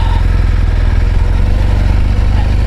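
A BMW R1200GS Adventure motorcycle engine idles close by with a steady, throbbing low rumble and fast even pulses, loud and unbroken with no talk over it.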